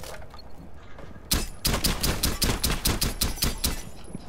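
Rapid bursts of gunfire ring out in a tactical shooter video game, a quiet lull followed by a loud, sharp string of about a dozen evenly spaced shots, with no talk over them.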